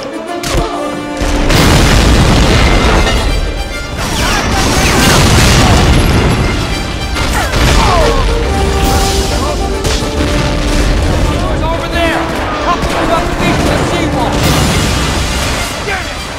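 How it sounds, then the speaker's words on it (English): In a D-Day beach landing video game, booming explosions, artillery blasts and bursts of gunfire crash loudly and continuously in a dense, chaotic barrage, with voices shouting amid the combat. "storming the beaches among a hail of gunfire and artillery bombardment"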